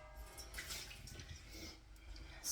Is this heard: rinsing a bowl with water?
yes